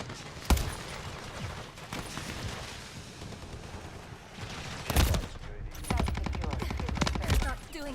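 Bursts of automatic gunfire in the zombies mode of the video game Modern Warfare, with a sharp shot early, another loud burst midway and rapid sustained firing toward the end.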